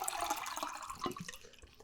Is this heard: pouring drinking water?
yes